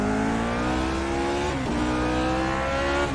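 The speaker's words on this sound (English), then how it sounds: "The car is very loud." A Lotus 49 race car engine roars loudly and continuously in iRacing at the Zandvoort circuit, its pitch climbing steadily, dipping sharply through a gear change, then rising again. No one speaks.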